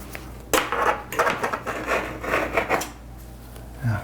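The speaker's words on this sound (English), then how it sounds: "I'll do one more scrape on this side" A tool scrapes old caulking off a tile tub shower surround, producing a few close, rough rasping strokes at moderate volume with no talking.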